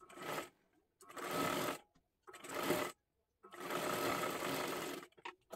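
A sewing machine stitching a blouse cross strip runs in four loud bursts of rapid, buzzing stitching separated by short pauses, close up and without talk.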